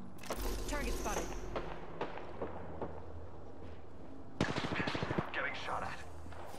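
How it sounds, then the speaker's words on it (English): Gunfire in the video game Apex Legends: bursts of rapid shots crackle amid in-game effects, with a denser automatic burst near the end, mixed under voice callouts. "Getting shot at."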